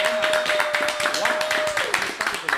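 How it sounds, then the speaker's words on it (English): An audience claps rapidly and fairly close, with quick overlapping hand claps under some talking and a brief whistle-like tone. "Clap it up one more time for them as they..."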